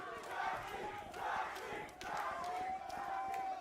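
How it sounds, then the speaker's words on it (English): Crowd roaring and cheering at a Valorant Champions Tour Americas playoff watch party for Cloud9 versus NRG, loud sustained swells of shouting voices rising and falling in waves over several seconds. "You hear it from the crowd."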